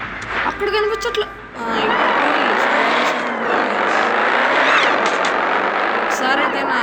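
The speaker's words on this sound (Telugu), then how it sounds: "ఒకసారి అయితే నా కారు ఎగ్జాస్ట్ సౌండ్ నేను ఫుల్ వాల్యూమ్ పెడతాను." A car's engine exhaust in the racing game Driving Zone Online: a brief, uneven burst, then a loud, steady roar that runs to the end without easing.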